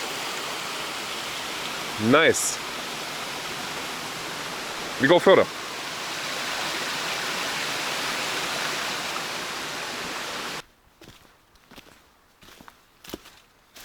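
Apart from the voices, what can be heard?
waterfall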